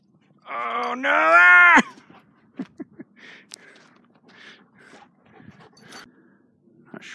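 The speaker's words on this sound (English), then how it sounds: "Look at this vicious dog." A dog in the Nevada desert at sunset lets out a long, loud groaning whine, then approaches with a series of short, close panting breaths and snuffles, fairly quiet after the initial vocal sound.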